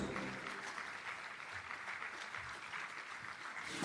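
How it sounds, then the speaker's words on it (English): Applause from a convocation audience, a steady wash of many hands clapping at moderate distance, continuous and fairly faint throughout. "Keep it continuing your applause."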